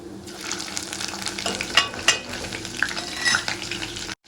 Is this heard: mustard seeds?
yes